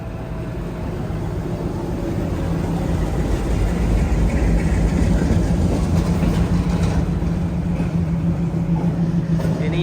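A Secunderabad–Visakhapatnam Garib Rath Express, hauled by a diesel locomotive, pulls away from the platform with a heavy, swelling engine rumble and a sustained low horn tone, loud and close.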